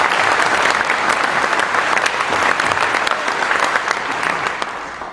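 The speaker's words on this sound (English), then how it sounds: "So I want you to give yourselves a round of applause." Loud, sustained applause from a crowd at a community meeting about a wildfire in Sisters, many hands clapping together close by, easing off slightly in the final second.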